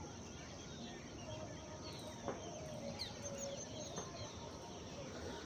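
Birds call faintly near a canal road in the Baroda area, with a couple of brief distant cries rising over a soft, continuous outdoor hiss.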